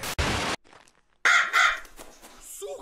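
A crow in the horror video game Paranormal Records gives a couple of loud, harsh caws after a sudden noise burst and a brief near-silence, with a faint voice murmuring afterward.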